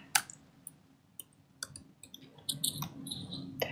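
A computer mouse gives a series of crisp, close clicks at irregular intervals, some single and some in quick pairs, over a faint room hum.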